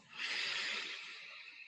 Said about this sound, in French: je vous invite à inspirer par le nez